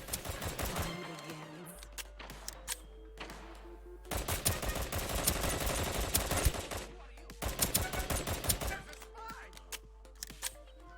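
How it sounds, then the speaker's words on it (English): Rapid automatic assault rifle fire in the Deceive Inc video game, repeated bursts of fast shots over a steady low game hum, with brief pauses between bursts. "She is equipped with an automatic assault rifle, making her a good pick for people who suck at aiming."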